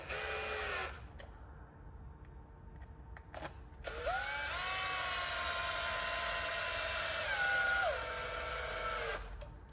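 A Harbor Freight power drill tightens parts on a Redcat Vertex 6 dig adapter, whining loudly in a short burst, then again in a long steady run with changing pitch; no talking.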